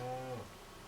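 A mother cow lets out a single low, close moo calling to her calf on open Wyoming range; it stops abruptly partway through, then only quiet background remains.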